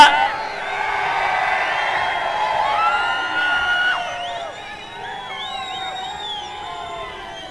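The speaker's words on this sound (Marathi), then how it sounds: "जरा जल्लोष करून सांगा." A large crowd at a Hindu Jan Aakrosh protest rally cheers and whoops loudly, many voices shouting together in a sustained roar that eases slightly toward the end.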